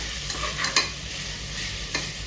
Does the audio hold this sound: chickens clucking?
no